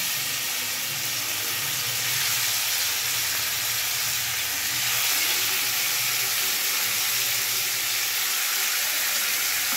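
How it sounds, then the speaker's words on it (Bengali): Chicken pieces fry in hot sunflower oil in a wok over a high gas flame, giving a loud, steady, dense sizzle that holds unbroken throughout with no talking. "এবার চিকেনগুলো আমি একটু ভেজে নেব।"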